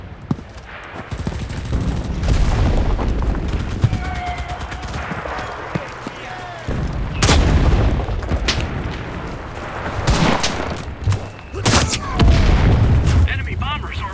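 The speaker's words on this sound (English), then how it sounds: "Rolling friendly artillery on C." A friendly artillery barrage lands in the video game Enlisted as heavy booms and rumbling blasts, with sharp gunfire cracks scattered through. Several loud impacts come in waves after the first few seconds, and a voice speaks over the battle.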